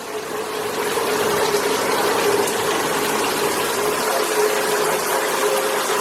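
A 10.5 gpm Showerblaster shower head pours water into a container, giving a loud, steady rushing hiss with no other sounds.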